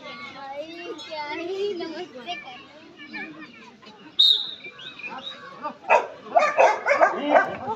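Police dog at a CISF dog squad demonstration in Kalpakkam: a few sharp barks and yips ring out near the end, over a background of people talking and children's voices.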